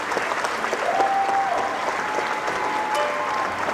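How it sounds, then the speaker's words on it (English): Crowd applause at the Miss New Jersey Pageant 2007 after the evening wear portion, a dense, loud, sustained clapping from a large audience filling the hall, with faint tonal sounds drifting through. "Please a round of applause for all of the ladies for this evening"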